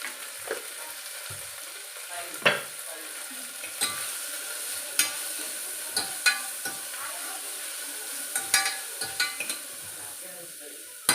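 Spices and turmeric are stirred in a pan with mutton, giving a steady sizzle of frying broken by scattered metallic scrapes and clinks of a spoon against the pot, close and clear, with no speech.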